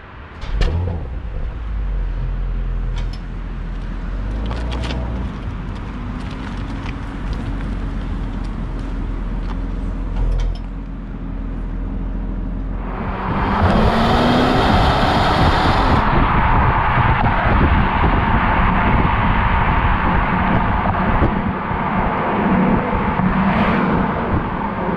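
Porsche Cayenne exhaust captured close by a GoPro, a steady low rumble that swells midway into a louder, rougher roar as revs climb and hold.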